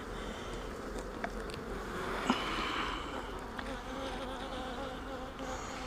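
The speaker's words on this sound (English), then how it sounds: "I got 2 or 3 of them buzzing me." Honey bees buzzing around an opened hive box during an inspection, a dense steady drone close by, with individual bees passing near.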